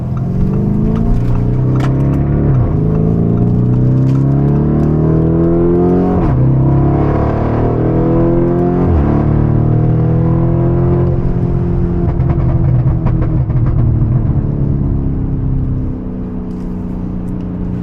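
A Novitec widebody Lamborghini Urus with a Gintani Stage 2 tune roars loudly while accelerating on the Pacific Coast Highway, its engine climbing through gears in repeated rising sweeps, close and continuous throughout with no talk.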